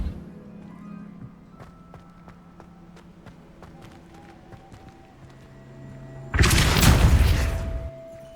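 A Depulso force spell cast in the video game Hogwarts Legacy, bursting out as a loud, sudden whoosh-boom near the end after a stretch of quieter footsteps and ambient game sounds.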